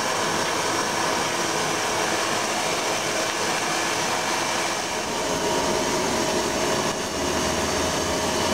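A forge roars steadily as a steel bar heats for forge welding while making a survival froe, a dense continuous broadband blast with a low rumbling undertone, loud and close throughout with no talking.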